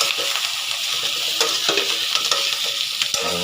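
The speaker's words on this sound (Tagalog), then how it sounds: "Gagawin natin humba. Ipa-fry natin ito." Meat for humba fries in a pan with a steady, loud, continuous sizzle and faint stirring scrapes, no voices over it.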